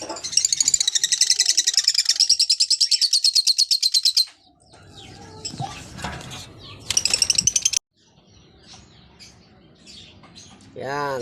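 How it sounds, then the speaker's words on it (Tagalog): Parakeets chirp rapidly in shrill, rhythmic bursts close by, with a pause of rustling and handling noises between the chattering spells. "Yan, mga alaga nating ibon na parakeets."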